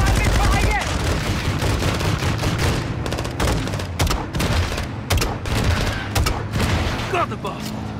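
Sustained light machine gun fire in Modern Warfare II, loud dense bursts of automatic shots with booming echoes running the full length, a voice briefly speaking amid the gunfire.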